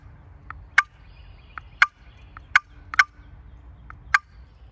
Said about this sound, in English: Next call is clucking